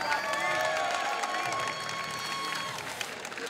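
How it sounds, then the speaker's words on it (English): An audience applauds at the PGL Championship Series Finals, an esports upper bracket final on Dust2, clapping and cheering for the finalist TSM, a sustained, fairly distant wash of crowd noise. "another round of applause for your first finalist"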